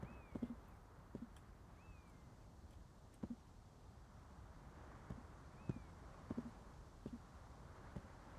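Horse hooves clip-clop in the medieval video game Gloria Victis, quiet, evenly paced hoof strikes in small clusters over a low background hum.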